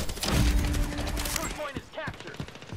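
A rapid burst of automatic gunfire rattles in the video game Hired Ops, close and sharp, followed by a few scattered shots while a voice speaks briefly.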